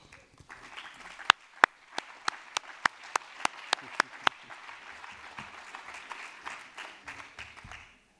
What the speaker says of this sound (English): please, a big, extra big round of applause for this man, Albert Salmon